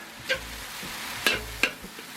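Leftover cold rice stir-fried with vegetables and bacon in a hot pan, a low steady sizzle broken by three or four sharp scraping stirs of a spatula, close and fairly quiet.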